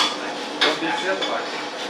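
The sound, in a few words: scooping roasted coffee beans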